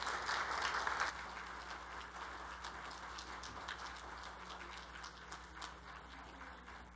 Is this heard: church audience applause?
yes